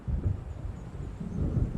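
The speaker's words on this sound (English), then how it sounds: "It seems there's a storm coming." A low, rumbling roll of stormy thunder in the video game Alan Wake, steady and moderately loud, with no talking.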